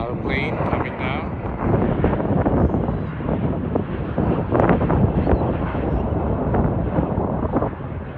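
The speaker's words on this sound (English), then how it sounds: "Here's another plane coming down." An airplane descending to land near the Pueblo Grande Museum in Phoenix, Arizona, gives a steady, broad roaring rumble throughout, mixed with outdoor wind buffeting the microphone.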